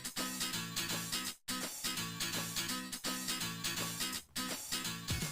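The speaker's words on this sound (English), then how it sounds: "The Plock soundtrack is so funny to me" Music from the video game Plock runs in a bouncy, repeating loop of chunky synth notes, with short breaks of silence between phrases and no talking.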